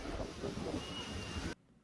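Loud, blustery wind roaring across the microphone with rushing water underneath, cutting off abruptly near the end.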